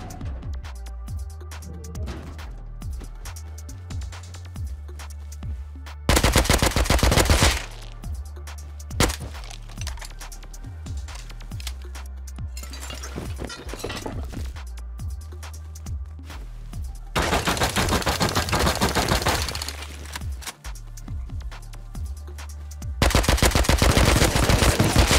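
Bursts of rapid automatic AK rifle fire in the survival video game Rust, three long sustained volleys of loud cracking shots separated by quieter stretches of game ambience and a few isolated single shots.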